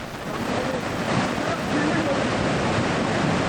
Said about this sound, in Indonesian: Aliran air yang bawa material Gunung Merapi memenuhi Sungai Gendol dan Sungai Kuning